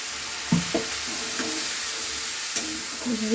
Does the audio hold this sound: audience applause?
no